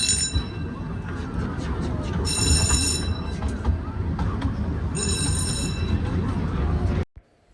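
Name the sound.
riding a train ride at LEGOLAND Germany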